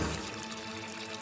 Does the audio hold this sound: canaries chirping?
no